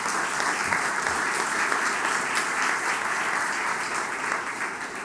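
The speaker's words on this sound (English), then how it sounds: "let's give them a round of applause." A crowd at a governor's outdoor recreation announcement applauds commission members, a dense, steady wash of clapping that holds evenly for several seconds before easing slightly at the end.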